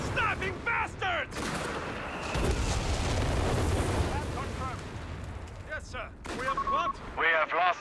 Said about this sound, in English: The heavy machine gun is targeting a fucking stabbing bastard!